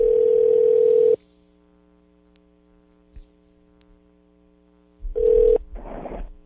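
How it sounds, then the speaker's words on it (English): A telephone ringback tone sounds twice, long steady electronic buzzes separated by a few seconds of quiet line hum, then a voice begins to answer. "The phone's just taking its time here."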